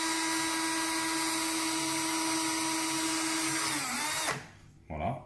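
A power drill with a small bit bores a hole for a wire in a Lemax Santa's Kiddie Train model, giving a steady high whine that winds down and stops near the end, followed by a brief faint noise.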